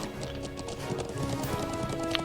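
Horse hooves clip-clop at a steady trotting rhythm in the Trails of Cold Steel video game, close and clear over a continuous music and ambient bed, with no talking.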